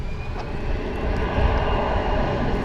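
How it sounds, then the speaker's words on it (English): Airliner on Honolulu-bound flight 2846 rolling into position for takeoff at DFW International Airport, a loud, steady engine roar with broadband rumble holding constant and close throughout, no talking. "our Honolulu-bound flight is moving into position"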